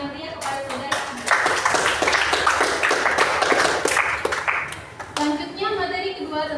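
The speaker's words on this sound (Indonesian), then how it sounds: "Mari berikan tepuk yang meriah kepada Saudari Agnes" An audience applauds for Saudari Agnes at a formal Indonesian event, with sustained clapping of a few seconds that rises after a voice speaks and fades as talk resumes.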